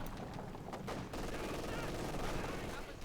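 A 6-pound anti-tank gun fires in Company of Heroes 2 amid a dense, loud battlefield wash of gunfire and impacts, with a commentator speaking over it.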